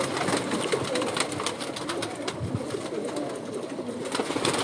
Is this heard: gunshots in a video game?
no